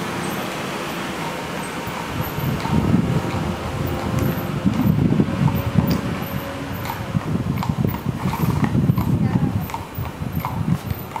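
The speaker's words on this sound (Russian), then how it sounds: "лошади." Horse hooves clip-clop at a steady walking pace on a busy Munich street, with tram and traffic rumble and a distant voice underneath.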